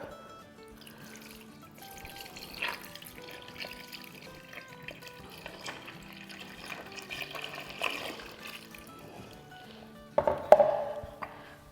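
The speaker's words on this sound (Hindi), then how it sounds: "अब इसमें डालेंगे दूध जो कि है 4 कप" Four cups of milk pour into a jangli faluda summer drink, a soft, close liquid trickle and splash running steadily, with a louder clinking splash near the end.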